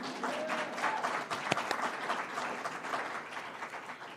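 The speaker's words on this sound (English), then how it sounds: "go ahead and clap" An audience at an education announcement event claps steadily, a soft, somewhat distant wash of many hands with one sharper clap standing out, continuing evenly at low level with no voices over it.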